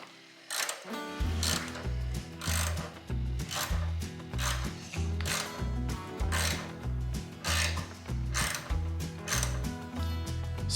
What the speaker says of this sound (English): tighten back up the nut on the top of the starter solenoid.